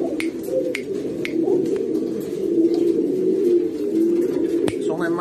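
Breeding pigeons in a loft in Sagua coo in a continuous low, throaty murmur, close and steady throughout, with a few sharp clicks and taps scattered over it.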